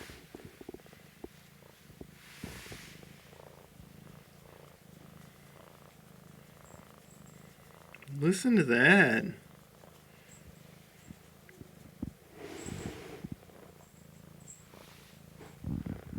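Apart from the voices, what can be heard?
cat purring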